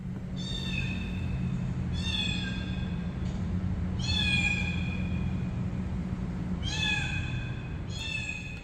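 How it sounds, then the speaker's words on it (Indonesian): A cat-meow sound from a Zeekr X electric car's sound effects plays five times in short, clear bursts, fairly close, over a steady low hum. "Ini yang kucing."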